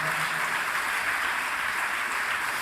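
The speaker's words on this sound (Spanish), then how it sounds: "Dele fuertes palmas al Señor" Congregation in a church service applauding for the Lord, a steady dense wash of many hands clapping together, sustained and even throughout without pause.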